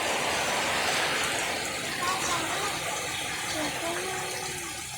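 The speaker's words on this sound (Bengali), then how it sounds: "ওদিকে জলের একটা রাজ্য ওখান থেকে খুব জল আসছে" Water pours in a continuous rushing, gurgling flow into a flooded house, steady and fairly loud throughout, with faint voices in the background.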